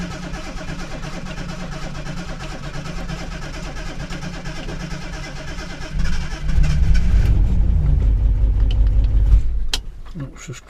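A Ford Granada Mk1 with no choke, after a stall, idles unevenly beneath a voice, then its engine swells into a louder, rougher run for a few seconds before dropping away again.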